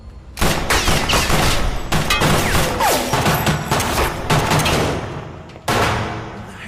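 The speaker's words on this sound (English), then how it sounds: "Who's shooting?" Loud, dense gunfire in a crime film scene: rapid overlapping shots and bursts ring out nearly continuously, with a brief pause before another volley near the end.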